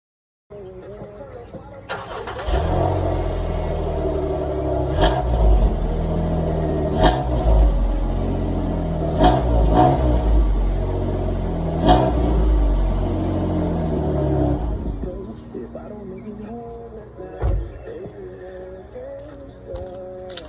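Jeep Wrangler JK engine with stock exhaust cranks and starts, then idles steadily and rises through several revs at close range for about twelve seconds before shutting off, leaving a quieter tail.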